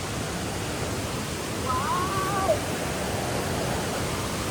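Mae Ya waterfall in Thailand gives a constant broadband rush of falling water, even and unbroken, heard from a moderate distance, with a short high whistle-like call briefly rising above it midway.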